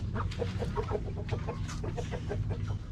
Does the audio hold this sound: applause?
no